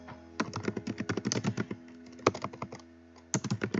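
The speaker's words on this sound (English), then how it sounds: "So I'm going to type perplexed" Someone types on a computer keyboard in a quick run of clicking keystrokes, pauses briefly, then finishes with a final short burst. The taps are close and clear, with no talking.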